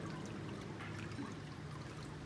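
Water draining off a papermaking screen after pulp is lifted from a vat, a steady trickling and pouring that runs continuously without talk.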